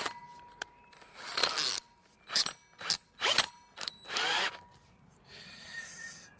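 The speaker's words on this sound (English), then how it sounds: "What we want to do now is drill out a 6-inch hole." A 6-inch hole saw on a power drill bites into wood for a cornhole board in short bursts, close and loud, with whirring spurts separated by quiet pauses and a faint hum after.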